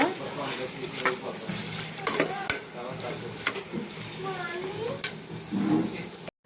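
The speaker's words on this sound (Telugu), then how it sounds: "ఇప్పుడు దీంట్లో మనం క్లీన్ చేసుకున్న కైమాని అయితే వేసేసుకున్నాం సార్ కలుపుకున్నామండి కైమాని" Minced mutton keema stir-fried in a pan, a steady close sizzle with repeated scraping and clinking of a spatula against the metal, continuing throughout with a few sharper knocks.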